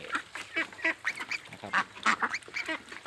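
Yi Liang ducks on a farm quack in a busy flock, with repeated overlapping nasal calls from several birds at close range and no talking.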